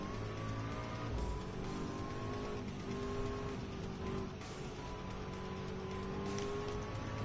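Subaru BRZ race car in a racing video game, its engine droning steadily with shifting pitch throughout, with faint tire noise over a continuous roar and no talk.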